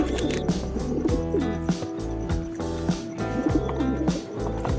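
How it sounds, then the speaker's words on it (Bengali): Old domestic pigeons cooing repeatedly at close range, with scuffling and wing flutters as two birds fight, during a rainy monsoon day. "এরা দুটো সারাদিন মারপিট করতে থাকে।"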